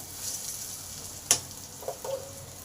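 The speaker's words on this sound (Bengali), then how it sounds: "আলুগুলো সুন্দরভাবে ভাজা হয়ে গেছে" Potatoes frying in a pan as a soft, low sizzle, broken by one sharp clack of a utensil and a couple of lighter scrapes, close but fairly quiet.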